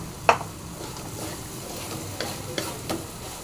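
White pumpkin stir-fry is stirred in a hot pan, with a soft continuous sizzle, one sharp utensil clank near the start and a few lighter scrapes after, no voices.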